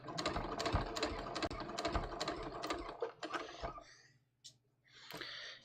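A sewing machine stitches slowly through double-faced linen knit shorts, giving a close, rapid, even run of mechanical ticks that slows and breaks into short bursts with pauses toward the end, no talking.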